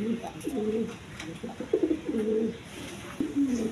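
A pair of big red Rajgolla pigeons coo in repeated low, rolling phrases, close and fairly quiet, with brief pauses between calls.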